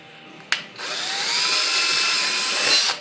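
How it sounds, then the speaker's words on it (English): A power drill bores a hole in a plastic X-Wing pilot helmet, a sharp click then a steady high whirring grind lasting a couple of seconds before stopping, close and loud with no speech. "now I'm going to drill a hole"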